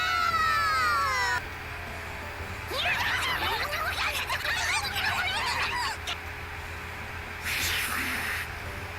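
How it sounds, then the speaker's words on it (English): Synthetic-sounding cat meows and yowls from the game Nekopara Vol. 0 overlap in a busy, squabbling burst, preceded by a warbling electronic tone, with a steady hum underneath. "Having a meow fight, just meow, meow."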